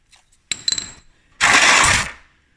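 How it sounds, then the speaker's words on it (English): A ratchet with a 17mm socket breaks loose the oil drain bolt on a Suzuki Marauder GZ 250 motorcycle: a quick clattering of clicks, then a loud half-second burst of grinding noise, close by. "I'm just going to use a 17mm socket. I'll get that broke free."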